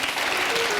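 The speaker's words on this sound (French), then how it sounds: "Merci de l'applaudir." A studio audience on a TV show set claps in sustained, even applause that fills the short moment at moderate loudness, with no voices.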